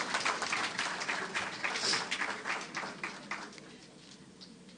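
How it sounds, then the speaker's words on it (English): An audience at a Caribbean examinations council opening and awards ceremony gives the Prime Minister a round of applause: a crowded burst of clapping that swells and then gradually thins and fades. "give the Prime Minister another round of applause for being committed to being here tonight"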